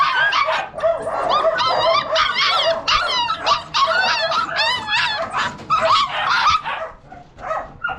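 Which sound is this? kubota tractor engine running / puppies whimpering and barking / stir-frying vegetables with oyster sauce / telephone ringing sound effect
puppies whimpering and barking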